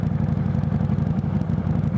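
A Kawasaki Versys 650 LT motorcycle engine runs with a steady, close, throbbing low rumble and even pulsing beats, with no voices.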